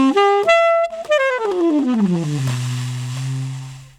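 A saxophone plays a triad harmony exercise, a smooth descending run of sustained notes ending on a long held low tone, close and clear, no talk.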